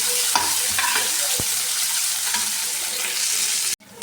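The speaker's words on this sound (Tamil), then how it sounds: "ரெண்டு வெங்காயத்தை சேர்த்துக்கணும் அது கூடவே ரெண்டு பச்சை மிளகாயும் சேர்த்துக்கணும் சேர்த்து நல்லா வதக்கணும்" Sliced onions and green chillies sauté in a hot pan, a loud, close, continuous sizzle with scraping stirs, cutting off abruptly near the end.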